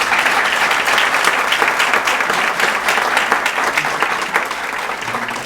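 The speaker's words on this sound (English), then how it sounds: "Let's give everyone another round of applause." Dense, loud applause from a large audience at an arts and culture awards breakfast, a continuous wash of many clapping hands sustained throughout and easing slightly toward the end.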